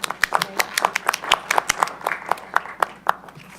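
Sparse applause in a city council chamber, a few people clapping in an uneven rhythm of sharp distinct claps over roughly four seconds, with some talk in the room underneath.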